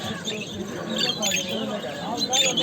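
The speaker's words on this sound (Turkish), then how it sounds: "Güzel kuşlar." Songbirds squawk and chirp at the Edirnekapı bird market in Istanbul. Scattered calls rise over a busy background where people talk nearby.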